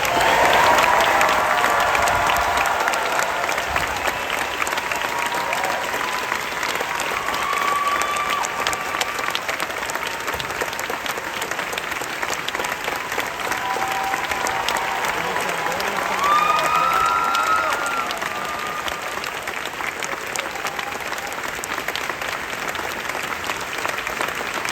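Sustained applause with crowd cheering from a large audience honoring 32 cast members at the Disney's Hollywood Studios 35th Anniversary presentation, steady and dense for the full length, with a few brief whoops rising above the clapping.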